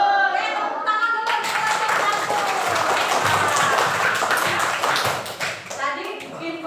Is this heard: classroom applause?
yes